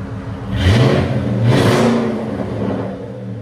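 A 2007 Saleen S331 with a supercharged 5.4L V8 and H-pipe delete revs twice close up, each blip rising sharply then falling, followed by a lighter third rise, loud and raspy with no talking.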